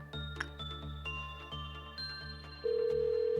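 Electronic phone ringtone from an abnormality in the Lobotomy Corporation video game, a series of chiming beeps at a steady pulse ending in a loud sustained tone, with no talking.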